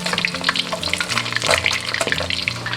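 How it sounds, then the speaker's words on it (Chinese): Crucian carp fries in hot oil over medium-low heat, a steady close bubbling sizzle with crackling pops and faint spatula clinks, no voices. "油温烧至5成热，下入鲫鱼，中小火慢炸"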